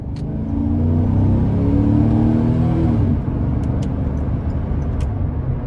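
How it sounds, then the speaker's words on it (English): A 2012 GMC Sierra 1500 Work Truck regular cab with a 4.8 V8 accelerating hard, a loud deep engine rumble and whir heard from inside the cab that eases off after a few seconds, with a few faint clicks afterwards. "when you really put your foot to the floor as you get higher in the RPMs, it does just feel that much stronger"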